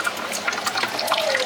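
Water runs from a tap into a bottle in a home kitchen, a steady close splashing stream with bubbling gurgles and a rising pitch as the bottle fills, heard alone without talking.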